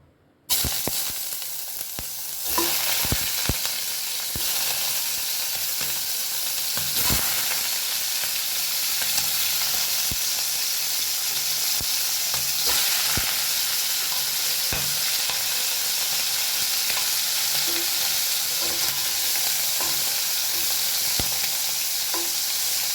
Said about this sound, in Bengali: এই মাংসের পিসগুলো একে একে করে এর মধ্যে একটু ভেজে নেবো